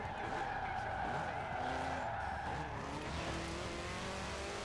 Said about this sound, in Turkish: Arkadaş fren attı. Fren yaptı.